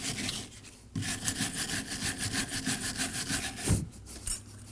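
A wire brush scrubs a 2016-2020 Kia Sorento front brake caliper bracket clean, making a close, harsh rasping scratch in fast back-and-forth strokes with a brief pause partway through.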